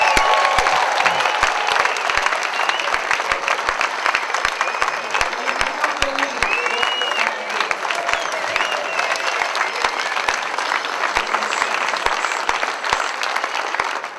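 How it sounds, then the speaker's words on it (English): Sustained audience applause with scattered cheers fills a celebration marking a company's 70th anniversary, dense steady clapping from a large crowd lasting throughout, with faint voices mixed in. "Please give him another round of applause."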